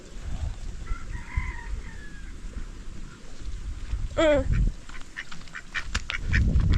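A duck being offered feed, with a close, quick run of raspy quacks midway over a noisy outdoor background of other fowl sounds.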